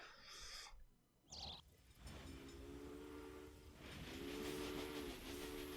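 Trains running in the video game Railway Empire, a steady rolling rumble with hiss and a couple of sustained horn-like tones near the end, fairly faint and continuous with no talking.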